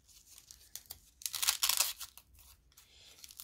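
Someone cuts a velcro strip, probably for a two-flap fabric pouch. It sounds like close, rasping, crinkly tearing and snipping bursts that rise to a louder stretch in the middle, with no speech.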